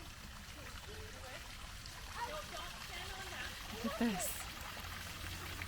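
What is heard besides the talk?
water pouring from dragon fountain's mouth, Butchart Gardens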